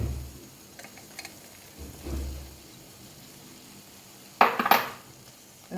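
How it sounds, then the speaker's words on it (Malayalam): Sparse metal-on-pan scrapes and clinks as fried squid is stirred into a thick gravy, quiet shuffling at first and then a louder cluster of clattering strokes near the end, with no voices. "ഇനി നമുക്ക് നേരത്തെ ഫ്രൈ ചെയ്ത കൂന്തളെടുത്ത് ഇതിലോട്ട് മിക്സ് ചെയ്യാം"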